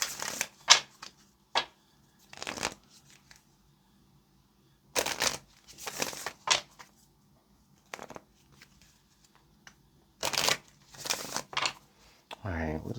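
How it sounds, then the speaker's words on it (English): Tarot fortune cards being shuffled in short bursts of crisp riffling and slapping, separated by quiet pauses, with a quiet voice speaking near the end. "let's pull some fortune cards here just so that we can maybe get a little bit of advice"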